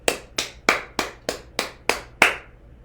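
Eight hand claps in a steady, evenly spaced rhythm, each a sharp close slap with a short decay, performed alone with no talking.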